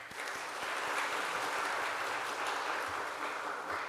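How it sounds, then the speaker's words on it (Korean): A church congregation at an evening staff retreat applauds together, a steady, dense wash of clapping that fills the room for several seconds without pause. "다 같이 우리 하나님께 영광의 박수를 올립시다"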